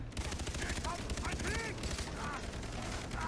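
Dense, continuous gunfire from the Far Cry 3 video game during a camp raid, with steady rapid shots and brief tonal whistles and effects layered over the din.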